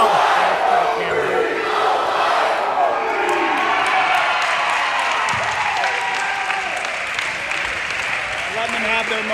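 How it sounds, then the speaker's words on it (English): Crowd at a Michigan dodgeball tournament cheering and applauding, loud at first and tapering slightly, with whoops and shouts over the clapping and people talking nearby. "Listen to that crowd."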